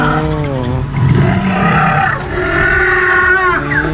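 An animatronic dinosaur gives a loud, drawn-out roaring growl rising and falling over several seconds, close by, with voices mixed in.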